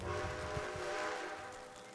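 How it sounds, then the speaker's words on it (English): A train in the video game Red Dead Online approaches with a broad, steady rumble and a hint of whistle, fairly quiet and heard alone without talk. "There's a train coming."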